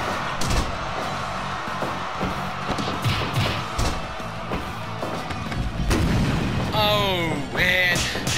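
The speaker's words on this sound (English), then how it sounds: "The explosion rings out like thunder as Donkey Kong hits a landmine." A booming landmine blast rings out amid continuous noisy video game audio, followed by a high descending whine near the end.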